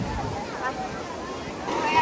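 Surf washes onto a crowded sea beach in Vietnam with wind buffeting the microphone, the waves rolling in a low continuous rush that swells toward the end, while people talk nearby.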